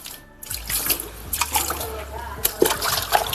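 Water splashes and sloshes in a basin while a cloth is dipped and wrung for cleaning a fish tank, with tap-like running water and light clatter throughout.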